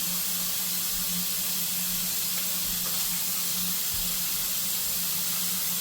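Tap water runs in a steady, even hiss into a sink while hands are washed under it in a lab, a continuous close stream with a faint low hum behind it and no talk.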